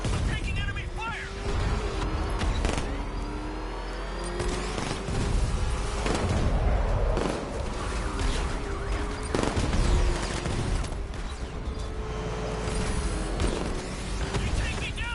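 Enemy gunfire rattles through dense combat in Batman: Arkham Knight, bursts of shots and booms over a steady mechanical drone, loud and continuous throughout.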